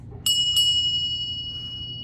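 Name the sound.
heavy vintage brass bell ringing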